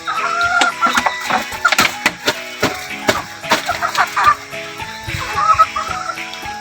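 Chickens clucking and squawking in a lively, busy barnyard chorus, with sharp repeated calls rising over steady background noise.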